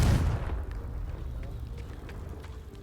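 A Repulsor spell blast fires in the Hogwarts Legacy video game, a loud burst and boom at the start that rolls off into a rumbling tail lasting a few seconds.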